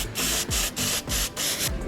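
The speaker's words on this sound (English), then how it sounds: "I'm gonna grab the exhaust manifold gasket, spray some good old copper spray gasket" Copper gasket sealant spray is applied to an exhaust manifold gasket in a garage, heard as four close, hissing bursts of aerosol spray with short gaps between them.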